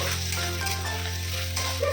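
Chopped tomatoes drop into frying onions and spices for a ghugni made with mutton fat, producing a brief, steady sizzle over a constant low hum.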